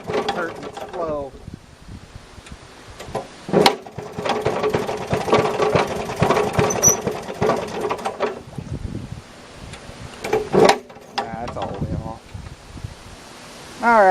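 A Maytag Model 92 gasoline engine on a washing machine, its muffler surging, chugs with a rapid, steady putter close by, while voices talk briefly at the start and end.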